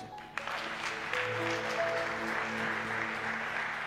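A church congregation applauds in acclaim of Jesus, a broad sustained wash of clapping from many hands that swells after a short opening and carries on with music tones underneath.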